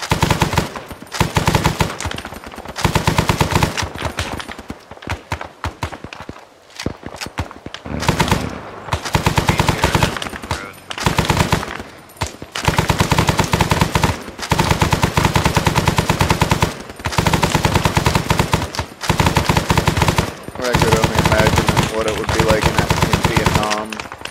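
Sustained machine gun fire in the video game Arma 3, long loud automatic bursts with short pauses between them.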